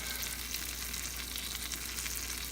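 Pancakes fry in a pan with a steady, soft, even sizzle heard up close, with no voices over it.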